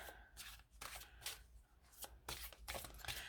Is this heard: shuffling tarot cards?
yes